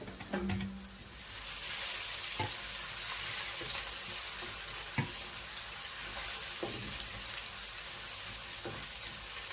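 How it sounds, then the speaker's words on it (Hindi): Fenugreek seeds frying in oil for kadhi give a steady, loud hiss that holds for several seconds, broken by a few soft knocks from stirring. "तकरीबन 2 मिनट तक ये फ्राई करें।"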